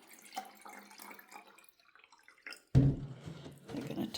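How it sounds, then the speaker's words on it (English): Conditioned water pours into a plant pot in a sudden gush after quiet dripping, a close splashing stream that ripples on for a couple of seconds. "Here is my treated water, treated with water conditioner, and we're just going to fill that."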